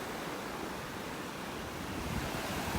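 Small ocean waves wash onto a beach in North Naples, Florida, a steady broadband surf hiss mixed with wind noise, continuous and moderately loud with no voices.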